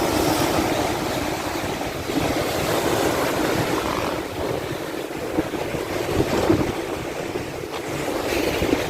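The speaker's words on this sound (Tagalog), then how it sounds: "laki laki talaga yung mga alon oh" Large ocean waves surge and wash steadily at the sea in Infanta, Quezon, amid gusty wind buffeting the microphone, with no voices heard.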